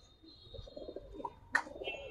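A pair of silver Giribaz pigeons coo softly nearby in a few short, quiet calls, with light chirps and no voices.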